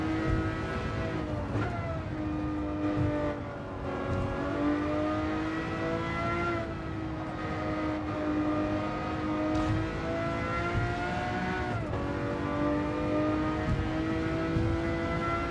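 A Lamborghini Murcielago LP 640 race car in the Gran Turismo 7 video game, driven in a race on the Tokyo circuit, roars with a loud, sustained engine note that rises and falls through gear changes.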